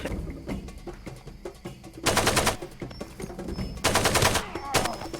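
Bursts of automatic gunfire in Far Cry 2, loud and close, rattling in rapid repeated volleys with short pauses between them.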